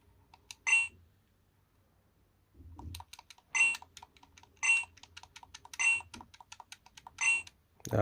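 Buttons on a D007 Plus handheld game console are pressed in a series of crisp, close clicks, with five or six louder beep-like bursts at roughly one-second intervals and no voice.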